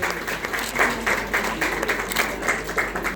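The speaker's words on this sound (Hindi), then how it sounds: "उनकी उपलब्धि पर सभागार में मौजूद सभी लोगों ने तालियों की गड़गड़ाहट के साथ उनका उत्साहवर्धन किया।" An auditorium audience breaks into applause, dense rhythmic clapping rising and falling in waves, fairly loud and close, continuing throughout.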